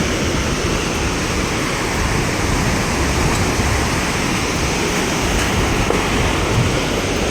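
River flowing beneath a long suspension bridge in the Manaslu region, a constant loud broadband rush of water that never lets up, heard alone.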